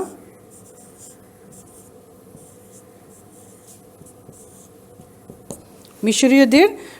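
Steady scratching of writing on a board during a history lesson, soft repeated strokes that run for several seconds before a loud burst of voice-like sound near the end.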